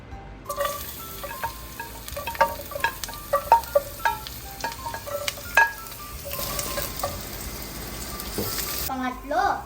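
Garlic, onion and ginger sauté in hot oil for tinola, a steady crackling sizzle broken by repeated clinks of a utensil stirring against the pan, close and with no talking.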